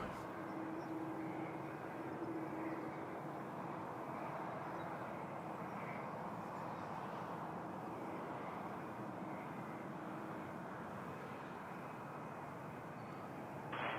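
A LOT Polish Airlines jet departing Toronto Pearson airport, heard as a steady, even engine roar from a distance that holds at a constant level throughout.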